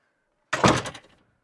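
A single classroom door swings shut with one solid thunk, close and loud against an otherwise silent room.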